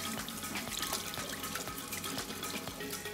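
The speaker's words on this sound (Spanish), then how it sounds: "Vamos a tomar nuestra lengua y vamos a lavar muy bien." Beef tongue rinsed under a running kitchen tap, a steady close stream of water splashing continuously with small irregular drips and clatters throughout, no voices.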